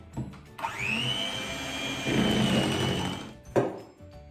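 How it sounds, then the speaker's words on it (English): An electric hand mixer whirs steadily through brownie batter, starting with a sharp click and running for a few seconds with a slightly rougher, heavier tone midway before switching off with a knock. "take the electric mixer again and mix these two components together"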